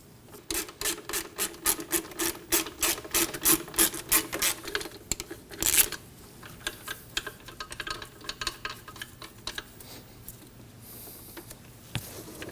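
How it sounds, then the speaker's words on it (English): A wrench loosens a pinch bolt and the belt tensioner on a 2003-2006 Subaru Baja during alternator replacement: rapid rhythmic ratcheting and rasping up close, then sparser scrapes and clicks. "Just have to loosen that up, and then you can go ahead and loosen the belt tensioner."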